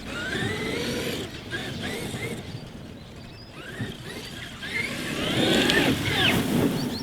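A Traxxas X-Maxx RC car running laps makes a whining electric motor that rises and falls as it speeds up and slows through turns, heard at close to medium distance with a little outdoor noise.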